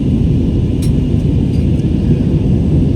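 Constant low roar inside an airplane cabin in flight above the clouds on a Guwahati to Ahmedabad route, a broad, even engine and air rush filling the space without speech.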